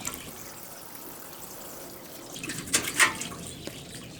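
Water being poured onto potting soil, a soft trickle that builds into a few louder splashing bursts near the end, faint and close with no talk.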